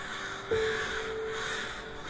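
A crow caws once in a forest, a drawn-out harsh call, over a low steady background hum with no talking.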